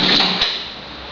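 A drawer slides open with a quick scraping rush and a brief knock, close and loud, during a hunt for Easter eggs, then fades into room noise.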